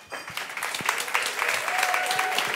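An audience at a candidates forum for the 2023 New South Wales state election in Manly breaks into applause, a dense, continuous patter of hand clapping that rises quickly and holds steady throughout.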